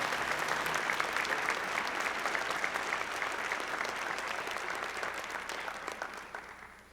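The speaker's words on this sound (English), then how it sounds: "Can we please give them one round of applause?" Audience applause at an evening education excellence celebration: a steady, dense clapping from a sizable crowd that fills the room and gradually thins toward the end.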